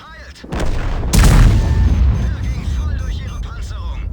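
A Grille 15 tank destroyer's gun fires once in World of Tanks: a single loud, deep boom with a long rumbling tail, with a voice talking before and after the shot.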